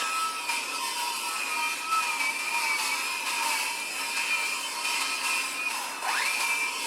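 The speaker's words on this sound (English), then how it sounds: "I've got my circular saw set for a little bit deeper than a 1/4" since it's 1/4" plywood" A circular saw cuts through 1/4 inch plywood in one long, steady, high-pitched whine, loud and close, with a brief pitch dip near the end as the blade finishes or slows. No voices.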